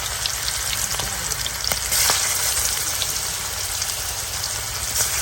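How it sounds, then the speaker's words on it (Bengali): Meat fries in hot oil, a loud continuous crackling sizzle with busy bubbling that holds steady close by, with no voices. "তেলটা গরম হয়ে গেছে আমি হলো একটু মাংস ভাজবো"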